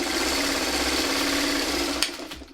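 A sewing machine runs continuously while chain-piecing quilt blocks for an 18 Cents pattern, a close, steady whirring hum that stops abruptly near the end with a couple of clicks, no talking over it.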